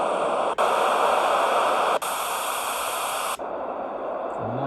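A portable mini white noise machine gives off steady, loud broadband hiss. It breaks briefly twice as it switches and then drops to a softer noise setting near the end, with no voices.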